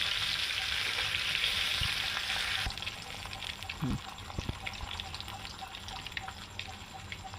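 Catla fish head frying in oil over a low flame, a steady soft sizzle that starts brighter and then settles lower, with a few scraping clinks of turning near the middle.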